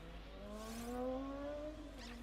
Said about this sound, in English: There's a car outside.